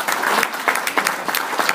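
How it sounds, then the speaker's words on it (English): A room of seated guests at a synagogue weekend gathering clapping together, a brief, lively burst of applause with distinct individual claps audible in the wash, fairly close and loud. "So one last time, a round of applause for that."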